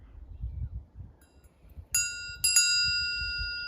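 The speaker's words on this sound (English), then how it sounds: "if the bell rings, then we know something's here" A small bell rings three times, clear bright strikes with lingering decay, over faint low wind rumble outdoors at a ghost-hunting site at Boleskine.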